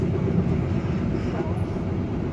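Steady low rumble of a moving business-class passenger train between Madiun and Surabaya Gubeng, heard from inside the carriage as a continuous, moderate drone without distinct clacks.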